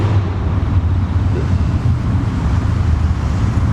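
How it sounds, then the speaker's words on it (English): Motorcycles passing on a street in Stockholm, a loud continuous low engine rumble mixed with wind noise on the microphone, steady throughout with no clear voices. "Listening to motorcycles might be meditations for some people, but not for me."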